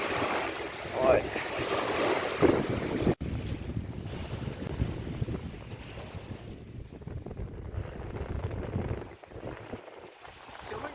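Strong wind buffets the microphone in a steady broadband roar, with water lapping in the background, on the bank of the Dnipro River in Cherkasy, Ukraine.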